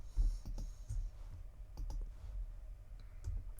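Computer mouse clicks on a Mac while selecting files: a handful of soft, close, irregular clicks in a quiet room.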